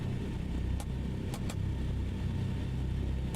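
A DC-3's piston engine runs at raised RPM in Microsoft Flight Simulator, a steady low rumbling drone with a few brief clicks, no talking.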